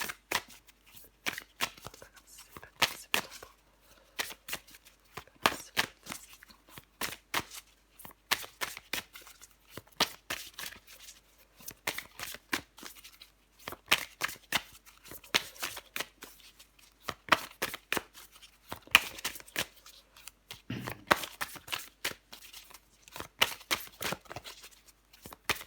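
Tarot cards shuffled by hand in repeated crisp riffling bursts and slaps with short gaps, close and quiet, no voices.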